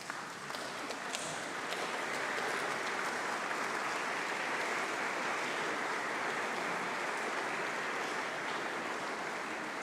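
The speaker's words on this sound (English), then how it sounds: "give your teachers a huge round of applause" A large graduation congregation crowd in a hall claps in sustained, dense applause that holds steady and loud from start to finish, with no talking over it.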